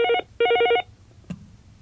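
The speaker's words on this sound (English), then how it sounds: "So I'm going to get the phone." A telephone rings in a radio studio, two electronic ring bursts in quick succession followed by a click as the handset is picked up.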